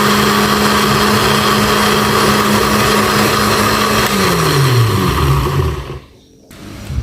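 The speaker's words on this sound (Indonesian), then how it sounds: "Kemudian kita akan haluskan dengan blender ya." A blender whirs steadily, pureeing ripe papaya with a splash of water, its motor holding a constant pitch before dropping and winding down near the end, then a brief quiet before it resumes.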